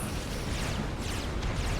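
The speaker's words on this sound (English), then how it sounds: "he's going to hear that gunfire" Dense, continuous battle din of massed gunfire and explosions from the real-time strategy game Supreme Commander, a steady loud roar with overlapping bursts and no pauses.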